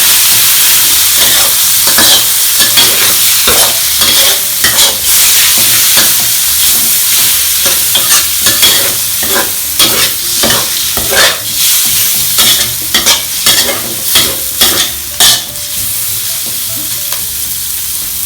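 Pork liver stir-fried in a hot pan, a loud continuous sizzle broken by rhythmic scraping strokes of the spatula, close and steady throughout with no voices.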